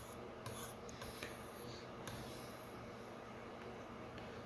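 A Sabatier paring knife is honed with very light pressure on a sharpening stone, giving soft, close rasping strokes with a few slightly sharper scrapes and no talking.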